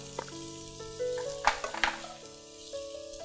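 Capsicum, carrot, cabbage, onion and sprouted green gram sautéing in a pan, giving a continuous close sizzle with a few brief stirring knocks in the middle, no talking.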